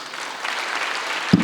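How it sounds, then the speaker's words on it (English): Audience applause at the launch of an international conference honoring First Lady Margaret Kenyatta, a steady wash of clapping across the moment, ending with a brief sharp thump. "Can we give another round of applause to Her Excellency the First Lady?"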